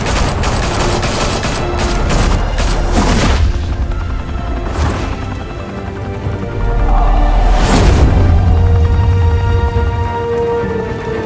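Gunfire in Batman: The Telltale Series, a sustained loud fusillade of automatic weapons with heavy booming blasts and rumbling impacts, continuous throughout.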